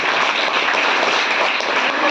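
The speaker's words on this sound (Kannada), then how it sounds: "ಅವರಿಗಾಗಿ ಒಂದು ಜೋರಾದ ಚಪ್ಪಾಳೆ" An audience applauds loudly at a college event for students, with a dense, even wash of clapping and no voices.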